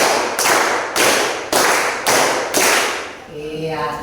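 Schoolchildren in an Indonesian classroom clap together in a counted pattern, giving a run of loud, evenly spaced group claps about half a second apart before the sound trails off into a brief ringing tone.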